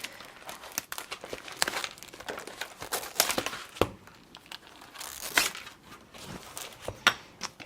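Tissue paper crinkles and rustles in bursts close up as a craft kit is unboxed, the sharp crackles coming irregularly with no talk.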